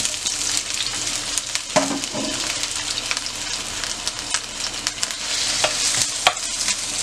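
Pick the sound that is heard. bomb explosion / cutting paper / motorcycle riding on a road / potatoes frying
potatoes frying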